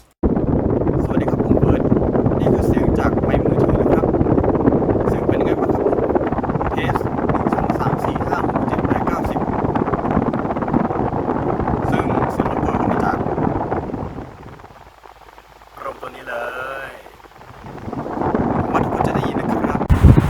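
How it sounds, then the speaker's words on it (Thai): Electric fan noise picked up by a Ulanzi J12 microphone with noise cancelling switched off, a steady broadband whooshing roar that dips briefly near the end before returning, with someone talking over it. "ก็เสียงรบกวนก็มาจาก พารลมตัวนี้เลย"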